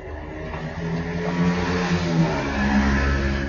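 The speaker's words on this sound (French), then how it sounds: "il y a des motos qui passent." Motorcycle engines drone and rise in pitch as they pass, a continuous revving roar at moderate distance with no voices.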